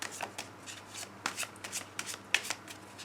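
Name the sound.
tarot cards being shuffled and cut for a reading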